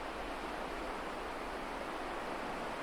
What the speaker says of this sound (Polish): Teraz słyszysz kojący szum morza.